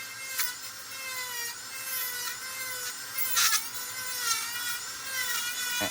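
Micromotor rotary burr carving a basswood figure, a high whining motor with a grinding, rasping bite that rises and dips as the burr cuts, close and continuous with no talking.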